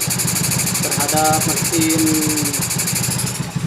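A carbureted Honda Beat motorcycle engine idles unevenly with a pulsing, slightly rough rhythm, close by, while a person talks briefly over it.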